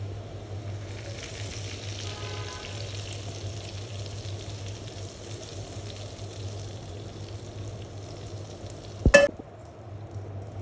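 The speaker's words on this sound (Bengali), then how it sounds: "দিয়ে দিচ্ছি একটু ফোড়ন" Beef haleem with browned garlic tempering added: a soft, steady sizzle with faint stirring, then a brief sharp clatter near the end, nearby with a low hum behind.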